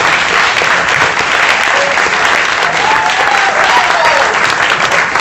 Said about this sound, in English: Let's have applause for all the winners tonight.